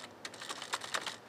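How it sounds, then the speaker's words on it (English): Quick, light keystrokes on a computer keyboard while formatting a document in Microsoft Word 2003. A brief, faint flurry of soft clicks in irregular rhythm. "I push Tab one time, and then I can start typing."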